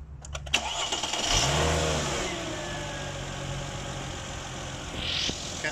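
A 3.2-litre V6 car engine cranks with a few quick clicks, catches and flares to a brief rev, then settles into a steady idle, heard up close.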